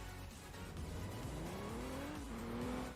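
An Apache vehicle engine in the game Emergency Response Liberty County hums steadily and close, its pitch climbing slowly as it accelerates, with no one speaking.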